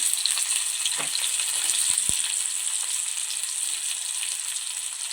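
Garlic sizzles in a hot pan for a spicy Konkan-style crab curry, a steady close frying hiss with a few soft stirring clinks early on.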